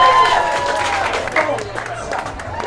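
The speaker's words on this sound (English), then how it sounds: "Give yourselves a round of applause." Crowd at a documentary event clapping and cheering for themselves, a lively burst of applause with voices mixed in over a low hum.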